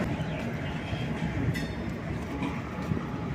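A train hauled by a locomotive rolls past on an Indian railway line near Nagapattinam, a continuous rumbling wash of wheel and carriage noise with faint clatter, steady and fairly distant.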